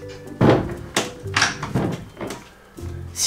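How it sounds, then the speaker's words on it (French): An interior door pulled shut in a home, a dull thunk near 0.5 s followed by softer knocks and bumps, with brief muffled voices around it. "Je vais aller fermer la porte pour pas que maman l'entende."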